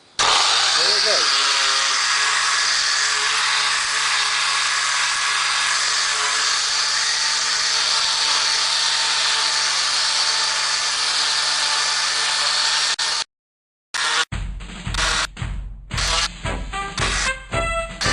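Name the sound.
electric sander sanding an Atari Red Baron game board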